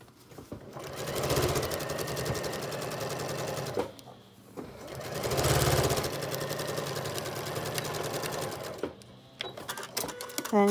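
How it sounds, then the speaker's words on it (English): A sewing machine runs in two long bursts, stitching a 3/8 inch seam across the bottom of a three-layer fabric face mask lining. A steady, close mechanical whir rises and falls, then stops briefly, with a few clicks near the end. "you're going to stitch across the bottom with 3/8 inch seam"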